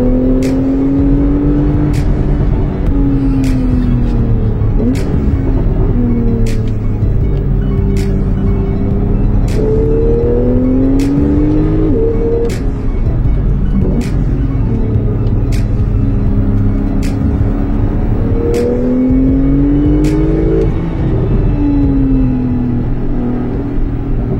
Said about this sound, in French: Passer la PDK en manuel, tomber 3 rapports et profiter de ce nouveau flat 6